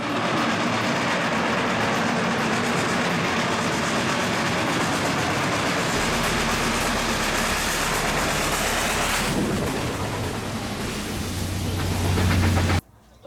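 A loud, constant roar of a passing steam locomotive, Reading 2102, fills the whole clip, with rumbling and rushing noise, ending abruptly.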